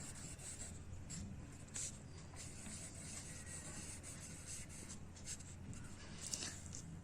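Pen or pencil writing on a paper maths worksheet, faint close scratchy strokes with small taps continuing steadily throughout, no voices.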